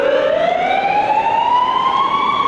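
A loud, nearby ambulance siren wails in a slowly rising tone, steady and continuous like a passing ambulance, on a street in Portugal.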